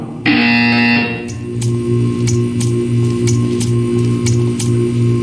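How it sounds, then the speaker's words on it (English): A loud electronic buzzer in the video game Portal 2 blares for about a second, followed by a low droning hum with a regular series of sharp clicking ticks. "When you hear the buzzer, stare at the art."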